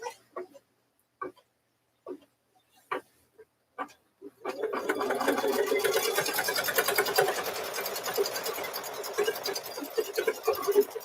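A few soft clicks and taps as the pieces of a pink and green quilt block are positioned, then a close sewing machine starts up and whirs steadily without a break for the rest of the time.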